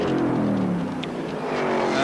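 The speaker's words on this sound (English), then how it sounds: "Max Stewart up through the start-finish line once again" A race car in the 1977 Rothmans International Series at Sandown crosses the start-finish line with a loud, brief engine drone that sweeps past over about two seconds.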